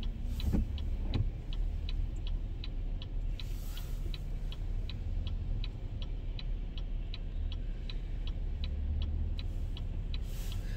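A car rolls slowly along a road in winter traffic, a steady low rumble of road and engine noise heard from inside the cabin, with a crisp turn-signal ticking at a regular rhythm throughout.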